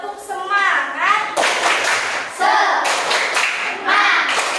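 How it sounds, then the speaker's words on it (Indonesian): A fifth-grade class does a rhythmic spirit clap in a lesson on regional culture, sharp claps in patterned bursts mixed with children's chanting voices, close and loud. "kita tepuk semangat dulu. Tepuk semangat."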